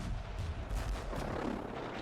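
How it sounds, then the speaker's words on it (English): Cannon fire rumbles in a video game, a run of low booms and blasts with cannonballs whizzing past, fairly quiet and continuous like a distant battle, with no voices over it. "I do hear the cannonballs just whizzing by though"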